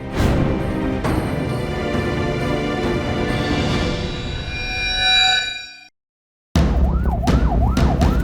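Loud ambulance siren wailing close by, heard from inside the ambulance, with a rising and falling tone, broken by a brief silence before the wail returns.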